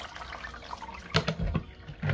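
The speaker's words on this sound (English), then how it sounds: "I've put it on a 6mm riddle. See that? And all the water's coming through there." Excess water drains from soaked fishing bait through a 6mm riddle, a close, uneven trickle and splatter with a few louder bursts of dripping.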